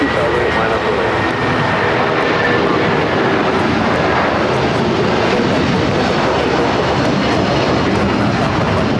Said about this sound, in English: Special taken off? Oh, the United